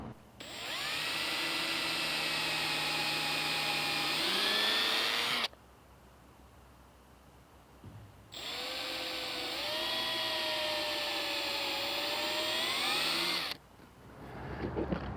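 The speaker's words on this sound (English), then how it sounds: "So I'm just going to go ahead and drill a couple pilots here." A power drill whines loudly for several seconds while drilling pilot holes, stops, then runs again in a second long burst, its pitch rising slightly as it bites in.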